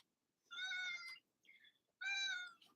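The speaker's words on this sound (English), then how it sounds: "Come on up here, you silly kitty." A cat meows twice, clearly and fairly close in a quiet indoor room, with long tonal cries about a second apart and a softer short chirp between them.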